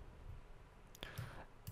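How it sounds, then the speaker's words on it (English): A computer mouse double-clicking on a zip file, a few soft, close clicks over a quiet background. "Now double click on the zip file"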